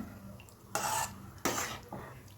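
Potato masala is stirred in a pan in three brief, moderately loud scraping bursts over a faint background sizzle, with quiet pauses between the strokes.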